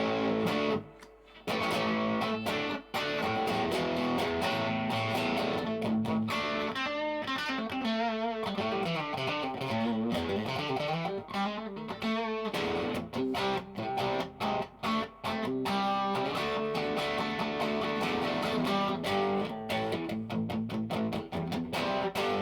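An electric guitar played through a Vox AC30 amp on the top boost channel with heavy reverb, chords and bends ringing out into a washy tail, loud and continuous.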